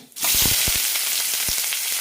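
Sliced onions dropped into hot coconut oil in a pan after mustard seeds, bursting into a sudden loud, close, continuous sizzle with a few scraping stirs.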